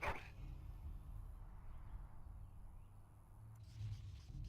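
A Mabari war dog in Dragon Age: Origins gives a brief whimper and bark at the start, then fades into a low, steady ambient rumble.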